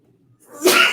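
A single sharp sneeze bursts out after a brief quiet intake, close and loud.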